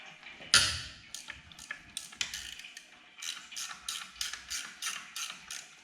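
A hand ratchet loosens bolts on the power steering pump of a 1969 Mustang, opening with a loud metallic clunk followed by a long series of rhythmic, close-up ratcheting clicks that stay even and unhurried.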